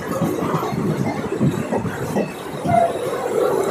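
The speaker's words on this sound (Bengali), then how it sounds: "ট্রেন অভয়পুরী স্টেশনে ঢুকছে।" A night train rolls into Abhayapuri railway station with a continuous low rumble and rattle of wagons, and a brief metallic squeal partway through.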